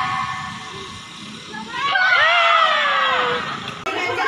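A group of people shout and scream together at an outdoor family gathering: a loud, dense burst of overlapping voices that swells midway, holds for about two seconds, then breaks off briefly before resuming.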